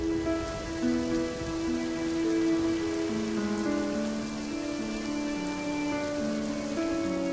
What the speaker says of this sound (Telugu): ఓ రోజు జోరున వర్షం కురవసాగింది.